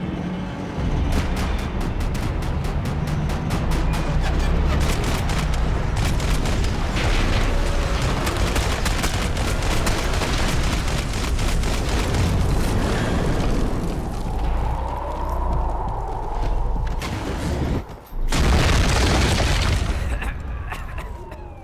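Max Payne 3 firefight with dense, loud volleys of gunfire and heavy explosion booms, sustained and close, one big blast near the end, with shouted voices mixed in.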